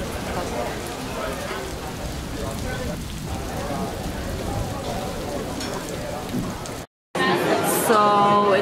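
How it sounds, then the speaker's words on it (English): Steady rain patters on a street in Italy with a broad hiss, faint voices murmuring underneath, then a brief cut to another noisy outdoor moment. "So it just started to rain."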